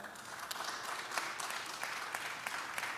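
Steady applause from an audience at a "We The People" gathering in LA, many hands clapping together in a fairly distant, uniform roar with scattered louder single claps.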